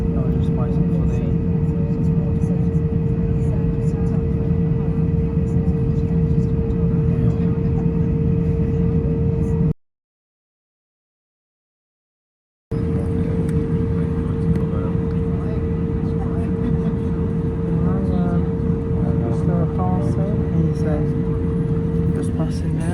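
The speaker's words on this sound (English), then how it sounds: "Just passing now as a 787 Dreamliner" A Boeing 787 Dreamliner passes on the airfield at the airport, heard as a steady, loud broadband engine roar with a sustained whine. The noise runs throughout and cuts out briefly partway through.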